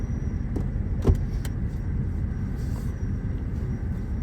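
A car in drive pulls away up a steep slope toward a house, its low engine rumble steady and close, with a few brief clicks and knocks along the way and nobody speaking.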